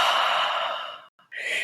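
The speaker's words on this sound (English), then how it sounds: "When you breathe out through your mouth, pretend like you're fogging a mirror. It should sound like this." A person breathes out slowly through an open mouth, as if fogging a mirror: a long, breathy, airy exhale that fades, then a brief pause and a shorter second breath, close to the ear.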